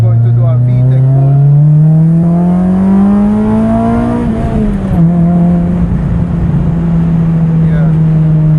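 Acura RSX with Skunk2 Tuner 2 cams revs hard in a VTEC pull, the engine note climbing steadily for about four seconds before a sudden drop and a lower, steady drone, loud and close.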